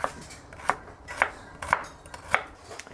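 A knife chops vegetables on a cutting board, cutting them into fingers for a stir-fry: six crisp, evenly spaced thuds about half a second apart, close and clear, with no voices.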